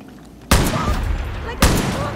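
Gunfire in the video game Far Cry New Dawn: two loud, sharp shots about a second apart, each followed by a rumbling decay over background game ambience.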